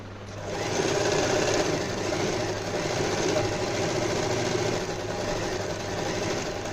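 An Usha Janome Allure DLX sewing machine runs steadily at close range with a continuous mechanical hum and rapid stitching buzz, lasting the whole stretch without talk.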